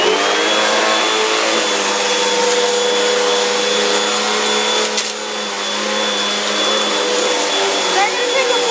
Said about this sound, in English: Hoover Wind Tunnel.